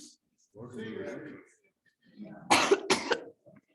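Two sharp, harsh coughs close by, preceded by murmured talk, then a brief faint sound as it settles.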